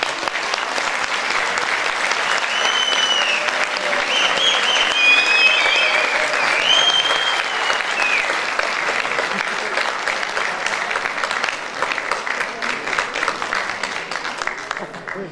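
Loud, sustained audience applause at a choir concert, dense clapping from a full hall continuing throughout, with a few brief voices and whistles rising over the crowd.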